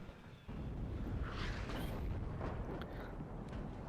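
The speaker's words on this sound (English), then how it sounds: "Good use of artillery at the back of this point now." Artillery fire in the Cold War strategy game WARNO, a low rumbling barrage of distant explosions that swells at the start and rolls on steadily, with scattered sharper bursts.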